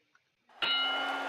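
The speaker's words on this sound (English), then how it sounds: "And there's the bell." A boxing round bell in a boxing simulation video game rings out once for round one of a featherweight bout. It is a bright, sustained metallic ring that starts suddenly and holds loud.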